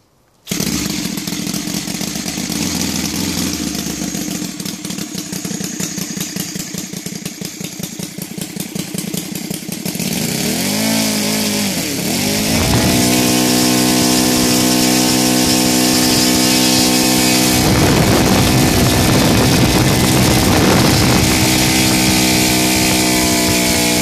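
A gasoline-converted engine with a Laser 300 CH ignition runs at a steady loud idle, revs up hard around the middle and holds high, then drops quickly back toward idle; a continuous buzzing drone throughout.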